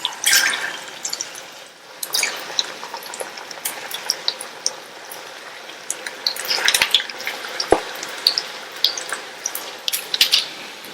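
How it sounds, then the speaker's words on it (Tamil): Pieces of varuval frying in hot oil on medium heat, a soft continuous sizzle with scattered crackles and pops, plus occasional clinks of a utensil against the pan. "ஸ்டவ் மீடியம் ஹீட்ல வச்சுட்டு கொஞ்சம் கொஞ்சமா எடுத்து எண்ணெயில சேர்த்துடலாம்"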